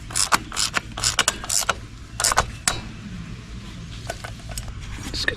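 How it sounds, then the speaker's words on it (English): Metal clicks and ratcheting as a replacement oil filter is fitted on an old Kubota tractor left in weeds for over 20 years; irregular sharp close taps and clacks in bursts with short pauses, no talking. "Alright, let's get our new filter installed."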